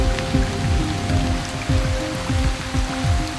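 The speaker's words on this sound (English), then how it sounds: "The rain poured heavily for the next few days" Heavy rain pours down steadily, with a dense wash of falling water over deep rumbling low tones that swell and fall throughout, continuous and fairly loud with no voices.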